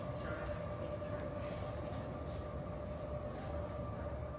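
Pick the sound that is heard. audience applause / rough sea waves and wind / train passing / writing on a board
train passing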